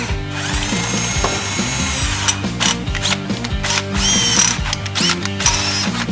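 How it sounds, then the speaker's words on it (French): A tool bores a second hole in thin metal beside an already punched hole, giving loud, close, continuous mechanical grinding with rapid ratcheting clicks and shifting pitch and no voices. "on passe un autre trou à côté d'où est-ce qu'on a punché"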